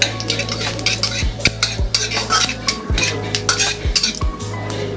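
Panch phoron seeds fry in hot mustard oil in a kadai, a soft sizzle under repeated quick clanks and scrapes of a metal spoon stirring the pan.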